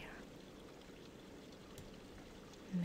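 Faint, steady trickling and splashing of a fountain in World of Warcraft's Silvermoon City, a soft continuous water wash with no distinct beats.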